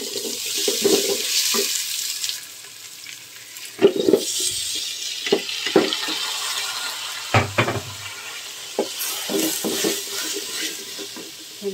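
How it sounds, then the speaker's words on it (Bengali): Rice frying in ghee with browned onions for a beef biryani, a steady sizzle broken by sharp scraping stirs and clatters of a spoon against the pot, no talking. "এখন চালগুলো দিয়ে ভেজে নিব।"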